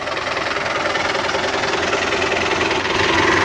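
A Belarus tractor threshes maize with its engine running hard, a loud, close, unbroken drone with a knocking pulse that swells slightly toward the end.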